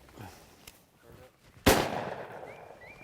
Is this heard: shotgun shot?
yes